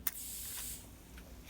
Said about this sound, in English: And spray more.